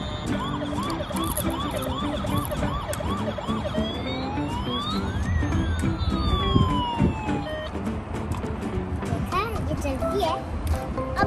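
A toy vehicle's electronic siren wails in rising and falling sweeps, close and fairly loud, with children and adults talking over it throughout.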